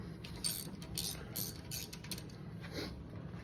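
Metal wrench turning on a rocker arm of an LS engine, giving a handful of quiet ratcheting clicks and scrapes in short uneven bursts, close by with no voices.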